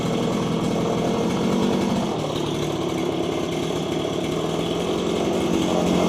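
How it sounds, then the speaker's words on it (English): A Stihl FS85R string trimmer with a newly replaced carburetor runs steadily. The two-stroke engine buzzes close by, loud and even and without a break, and no one talks over it. "Idling nice and low."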